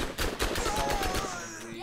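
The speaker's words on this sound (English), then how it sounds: "the SMG that has a terrible fire rate" SMG gunfire in the video game Borderlands, a burst of roughly eight evenly spaced shots at a fairly slow rate, loud and close, followed by a ringing tail.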